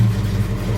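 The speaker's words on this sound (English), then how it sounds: "Okay, now onto the engine. Let's start her up." The engine of a 1974 Jensen Interceptor running just after starting, a loud, close, low rumbling idle with a steady throb and no voices.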